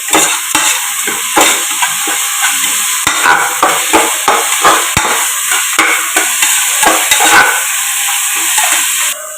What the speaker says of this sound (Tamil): தக்காளி நல்லா வதங்கிறது